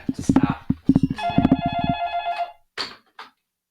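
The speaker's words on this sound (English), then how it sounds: "The phone is ringing." A telephone rings with a steady electronic tone under a man's speech, followed by brief talk after the ringing stops.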